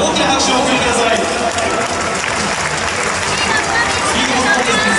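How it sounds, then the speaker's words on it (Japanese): A stadium crowd applauds the five challengers of a baseball speed ball contest, a loud, steady wall of clapping with crowd noise throughout. "5人のチャレンジャーの皆様に大きな拍手を送ってください。"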